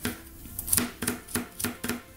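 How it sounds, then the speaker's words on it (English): A knife chops deseeded chili peppers on a cutting board while guacamole and corn sides for tacos are prepared, about six crisp, evenly spaced taps, close and fairly quiet, with no talk. "And just chop them up."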